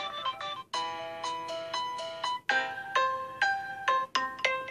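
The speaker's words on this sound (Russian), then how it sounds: "Стала куча мелодий новых." A ringtone melody plays from a Samsung S7 Edge phone speaker, a bright chiming tune of bell-like notes in rhythmic phrases, each note ringing and decaying, loud and alone without talk.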